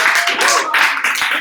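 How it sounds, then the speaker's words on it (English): Applause for the host at a company quarterly review evening, dense clapping in bursts with a brief dip midway, voices mingling underneath. "Round of applause for the host."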